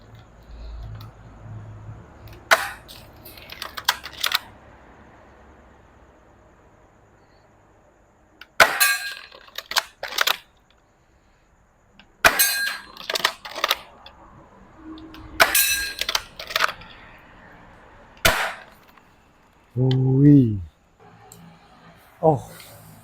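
A CYMA CM350 M870 airsoft shotgun is pumped and fired at a target, giving several sharp clacks and snaps spread over the span, with someone talking in between.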